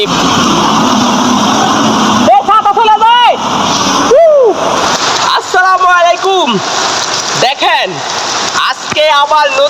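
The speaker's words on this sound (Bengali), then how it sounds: "দেখুন মালয়েশিয়ায় বৃষ্টি হইতেছে প্রচুর পরিমাণ বৃষ্টি হইতেছে" Heavy rain pours down in Malaysia during a flood, a loud continuous hiss and wash of water, while someone talks at length over it.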